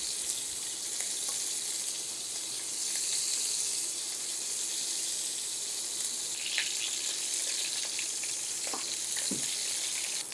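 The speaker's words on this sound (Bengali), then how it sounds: "আর এগুলো ভেজে নিব, হালকাভাবে ভাজতে হবে।" Half a kilo of cauliflower pieces frying lightly in a little oil in a pan, a steady broadband sizzle with occasional brief sharper pops and crackles, close and continuous with no talking.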